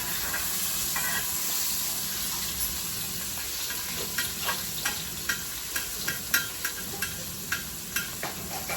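Steady loud sizzling of chicken frying with pepper in a hot pan, with occasional scraping and stirring clicks toward the end.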